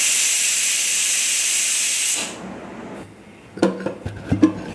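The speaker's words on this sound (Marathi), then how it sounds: "त्याला झाकण लावून बंद करून घेऊ आणि कुकरच्या शिट्ट्या काढून घेऊ." A pressure cooker with potatoes inside vents a loud, sustained jet of steam for about two seconds and then stops abruptly, followed by a few light clinks of pots and utensils nearby.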